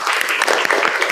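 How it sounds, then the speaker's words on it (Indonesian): Brief burst of clapping from a group of vocational school students in a classroom, dense and quick, lasting only a moment. "Tepuk tangan untuk kalian semua"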